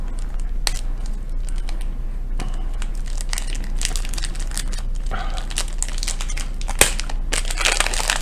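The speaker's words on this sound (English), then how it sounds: "I hate the sound of this plastic." Stiff plastic pieces of a Moyu RS3M Maglev cube click, crackle and crinkle as they are handled up close, in irregular bursts of sharp snaps with a louder crack near the end.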